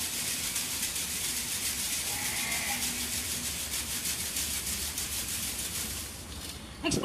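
Palm-rib brooms (sapu lidi) shaken steadily, giving a continuous dry, rustling swish with a fast pulsing texture, close and fairly loud, ending with a brief clatter and no voices.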